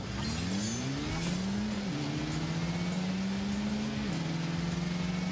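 A 2-litre turbo car launches flat out in a drag race in The Grand Tour video game, its engine note climbing steadily through two gear changes, loud and continuous with no talk over it.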